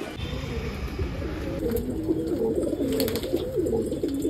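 Soft, low cooing from a wild pigeon perched on a rooftop umbrella, repeating in a wavering rhythm under steady outdoor background hiss.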